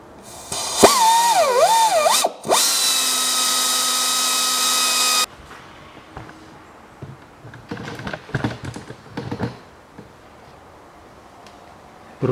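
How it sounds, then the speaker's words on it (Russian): A power drill drilling out a stud in the cylinder head of a 2004 Volkswagen Touareg whines up in pitch, then runs at a steady high-speed drone for several seconds before stopping, followed by clicks and handling noises. "Пока сейчас дрелью начну"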